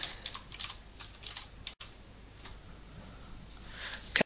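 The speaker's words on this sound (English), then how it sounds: "in that list I need to type in Measure It." Typing on a computer keyboard while entering an add-on name in the Firefox browser, a run of quick, light key clicks in close, fairly quiet bursts with a short pause midway and a louder keystroke at the end.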